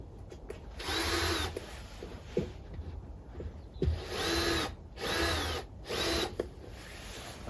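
A power drill whines in several loud bursts as it backs screws out of wooden formwork for an outdoor cooker built from an upcycled can, with short pauses and clicks between runs.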